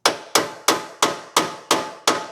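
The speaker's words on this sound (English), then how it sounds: "I'm going to adjust the little bracket with my little hammer." A small hammer tapping a metal bracket on a trike body, seven sharp, evenly spaced knocks, each ringing briefly and decaying before the next, close and loud with no talk.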